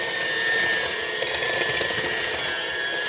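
An electric mixer whirs steadily through pound cake batter, a close, even high-pitched motor whine with faint scraping against the bowl.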